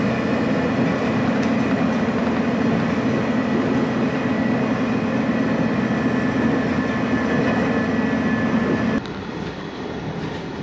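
A Kiha 283 diesel train runs steadily on snowy Hokkaido tracks, a loud continuous rumble of engine and wheels that holds for about nine seconds, then drops in level as it continues.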